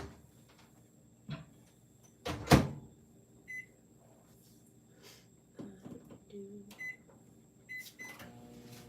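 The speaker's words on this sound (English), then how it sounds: "We're going to pop this in the microwave to start melting it." A microwave oven melting butter, with its door clunking, a few beeps and quiet clicks and ticks spread across a low hum, while a person speaks in between.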